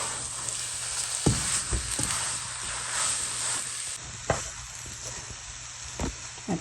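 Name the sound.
moong dal halwa mixture cooking and being stirred in pan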